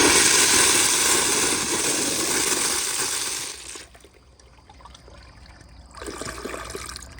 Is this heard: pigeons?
no